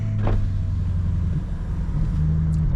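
BMW 650i E64 from 2008, 367 hp, rolling slowly in first gear, its engine a steady low rumble with a brief rise and settle, constant and close throughout.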